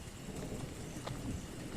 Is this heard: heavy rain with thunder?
yes